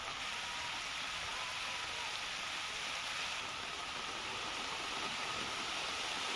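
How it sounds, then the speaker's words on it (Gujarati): Unseasonal heavy rain pours down in Ambaji in a dense, unbroken hiss, loud and constant from start to finish, with no voices. "અંબાજીમાં એકાએક ભારે વરસાદ વરસવાની શરૂઆત"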